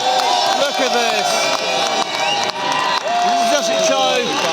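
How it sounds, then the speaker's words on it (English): A protest crowd at Whitehall during a farmers' protest cheers and whoops loudly, with a steady roar of many voices and people shouting nearby. "listen to the crowd going wild"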